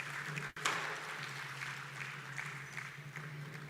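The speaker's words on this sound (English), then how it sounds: "A round of applause for my president." Moderate audience clapping at a conference ceremony, a steady patter of many hands heard from some distance with a low hum beneath it and a brief dropout near the start.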